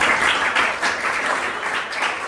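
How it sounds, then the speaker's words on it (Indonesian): Applause from a class for a student, a steady burst of many hands clapping at once, fairly close and continuous for a couple of seconds. "Tepuk tangan untuk Nala dari tim kita."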